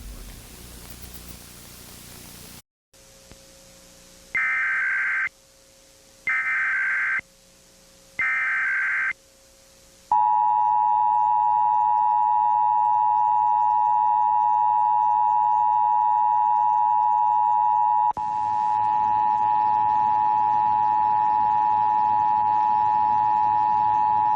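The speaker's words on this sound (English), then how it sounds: "official messages would have followed the alert tone" An Emergency Alert System test plays from a New York area broadcast: static, three bursts of data header tones, then a long, loud, steady two-tone alert that holds for over ten seconds and shifts slightly near the end.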